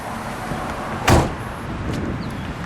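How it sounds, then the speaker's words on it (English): The hood of a 1964 Ford Galaxie 500XL two-door is opened with a single sharp metallic clunk of the latch, heard close up against quiet outdoor background noise. "Let's open up the hood, shall we?"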